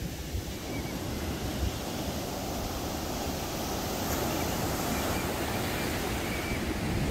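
Pacific Ocean surf rolling onto the California coast, a steady broadband wash of breaking waves mixed with wind rumble on the microphone, continuous and fairly loud throughout with no distinct individual crashes.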